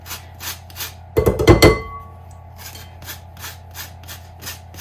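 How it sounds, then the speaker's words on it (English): Orange zest being grated into a bowl of cranberry orange muffin batter, a short burst of brisk rasping scrapes lasting under a second, close and fairly loud, with quiet kitchen background before and after. "I'm just going to go ahead and grate some orange zest into here."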